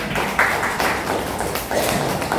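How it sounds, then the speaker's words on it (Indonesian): Young first-grade pupils clap for their classmates in a primary school classroom, a dense, uneven patter of many small hands filling the room, fairly loud and steady for a couple of seconds, with no talking over it. "Bagus, tepuk tangan buat teman-teman."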